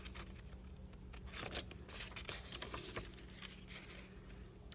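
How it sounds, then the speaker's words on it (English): Paper being cut along drawn lines to open a window in a card front, a quiet series of soft snipping and crinkling sounds close by, with faint rustling between cuts. "I'm just going to cut all the way around on those lines so that we have our window"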